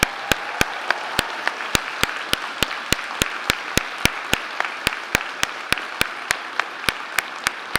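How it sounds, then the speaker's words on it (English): Clapping at a university graduation ceremony: sharp, evenly spaced claps in a steady rhythm of roughly three per second, ringing out over a low hall murmur for several seconds, with no clear cheering. "Please stand up, big cheer and some clapping for your family and friends."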